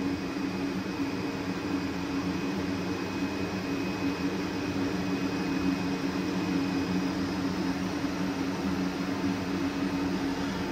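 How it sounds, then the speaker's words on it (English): Fans run steadily to cool a waste oil burner stove, giving a continuous, even whirring drone with a low hum and no gaps, alone without speech. "I'm gonna let those fans run for a minute, cool the stove down"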